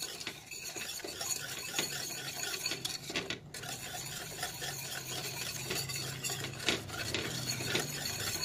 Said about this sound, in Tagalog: Stir muna natin siya, guys, bago natin i-on yung ating fire.